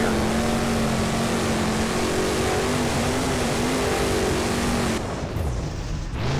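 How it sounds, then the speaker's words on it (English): A truck in the driving game BeamNG spins donuts, its engine holding a steady loud drone with a slight wavering pitch before the tone drops and thins near the end; no talking. "looks like the BKT Tires Ride Truck is going to give us some donuts here."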